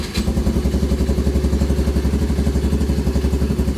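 A Honda Navi motorcycle engine catches after a brief crank and settles into a close, even, putting idle with a rapid regular beat.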